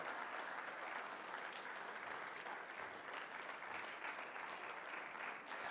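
Sustained applause from a large audience at a Ramayana festival stage event rolls on evenly and faintly, a dense, unbroken wash of clapping with no voices standing out.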